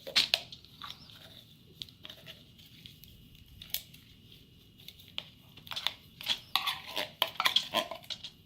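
A metal spoon scoops thick, meaty soft pate dog food out of a can, giving quiet scrapes and clinks in a loose series that grow busier toward the end.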